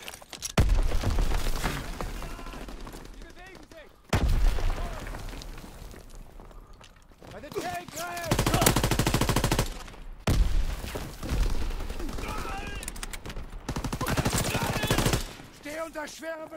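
Mounted machine gun fire in Call of Duty: WWII multiplayer, loud long bursts broken by short gaps, with booming explosions in the mix.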